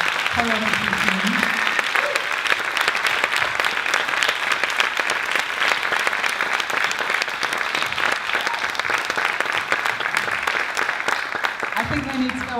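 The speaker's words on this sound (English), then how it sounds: "One final round of applause for the dancers and the choreography team." A theatre audience at a dance show in the Lilian Baylis Theatre gives a final round of applause for the dancers and choreography team, loud, sustained clapping filling the hall, with a voice briefly heard at the start and end.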